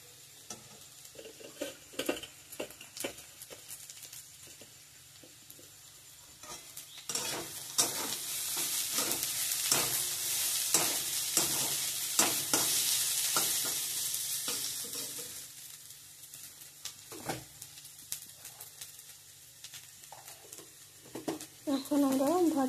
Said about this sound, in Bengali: এখন আমি বাঁধাকপি দিয়ে দেবো।